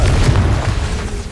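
The Confringo fire spell in Hogwarts Legacy on PS5 explodes with a heavy, rumbling boom that stays loud and dense for over a second, with no talking.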